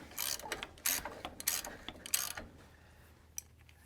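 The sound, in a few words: 15/16 ratchet wrench tightening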